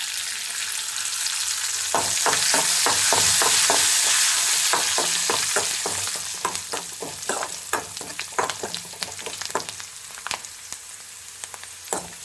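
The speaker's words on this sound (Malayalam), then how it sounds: "കരിയാപ്പിലയും കൂടെ വറുത്ത് കൊടുക്കാം" Oil sizzling steadily with a loud hiss, then a series of sharp crackles and pops as leaves fry in the hot pan.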